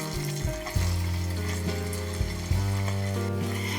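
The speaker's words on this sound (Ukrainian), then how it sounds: "На всі сковорідки піджарюємо цибульку." Finely chopped onion fries in several pans at once, a continuous near sizzle broken by a couple of sharp stirring knocks, with no talking.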